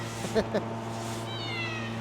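Two short meows from a male cat close by, one after another, over a steady low hum, followed by a faint high chirping tone.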